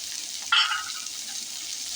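Capsicum and corn kernels sautéed in a pan for white sauce pasta, giving a steady close sizzle with one brief louder burst of frying and stirring near the start.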